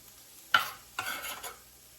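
Chow mein ingredients, including diagonally cut celery, dropped into a hot pan and stirred, giving a close sizzling hiss with a few short scraping stirs and no talking.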